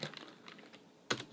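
Keystrokes on a computer keyboard entering a terminal command: a quick run of light, close clicks followed by a single louder tap, like pressing Enter, with no talking.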